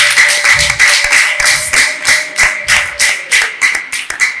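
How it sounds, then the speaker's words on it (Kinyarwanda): A church congregation claps in a steady rhythmic beat, about ten sharp claps over several seconds, fairly close and loud, with a sustained tone underneath. "Komera Imana amashyi mu izina rya Yesu"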